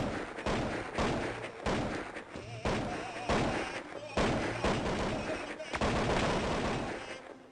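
Repeated bursts of rifle and automatic gunfire in Counter-Strike 1.6, a steady series of loud cracking volleys every second or so over a busy game background, with people talking in the background.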